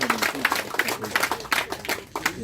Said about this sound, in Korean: 큰 박수로 기뻐합니다